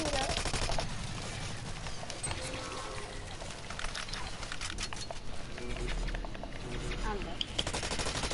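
Gunfire in the battle-royale game PUBG, with bursts of shots and rattling fire running steadily under excited voices of players talking throughout.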